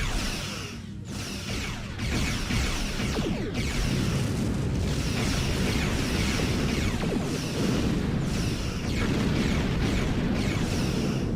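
Starship weapons fire and explode in Star Trek Online, a continuous heavy barrage of booming blasts and rumbling detonations, loud and sustained with sharp bursts every couple of seconds.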